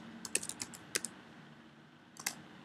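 Quick bursts of close computer keyboard typing, a rapid run of clicky keystrokes followed by a pause and then a brief final cluster, in a quiet room.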